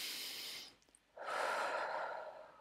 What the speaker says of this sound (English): Take some deep breaths in.